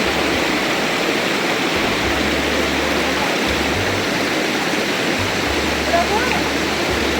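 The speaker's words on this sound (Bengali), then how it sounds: "এটা হচ্ছে রিন্দি রিভার" The Rindi river near Pelling, Sikkim rushes past in a loud, constant broadband roar of flowing water that continues unbroken throughout, with a voice faintly audible beneath it.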